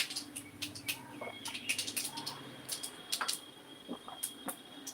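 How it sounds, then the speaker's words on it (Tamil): Mustard seeds splutter in hot oil in a home kitchen while sambar is being made, with irregular sharp crackling pops in quick bursts, fairly close, and faint chirping in the background. "அந்த கடுகு பொரியிற சவுண்டு நம்மளுக்கு கண்டிப்பாக கேட்கும்"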